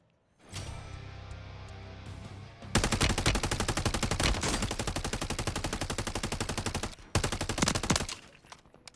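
Bursts of rapid automatic gunfire in Call of Duty: Modern Warfare 3 crackle loudly and continuously, with a short pause before a final volley; no talking.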